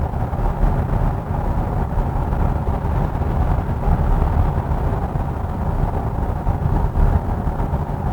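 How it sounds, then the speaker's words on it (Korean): Steady low cabin rumble inside a Hyundai Grandeur GN7 AWD cruising at 75 km/h with the panoramic sunroof cover open, a continuous even road and engine drone with no voices. "지금은 파노라마 선루프 커버를 열고 주행 중입니다."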